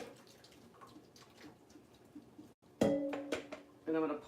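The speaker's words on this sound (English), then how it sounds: "I'm gonna empty, drain the pasta," Water pours into a sink as cooked pasta is drained, a sudden splashing rush near the end after a stretch of quieter kitchen noise, followed by a second short burst.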